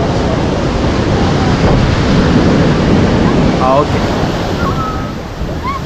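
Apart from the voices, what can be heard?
sea waves on the shore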